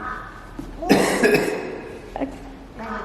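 A single harsh cough bursts out nearby, followed by a few softer throaty coughs and rasping breaths.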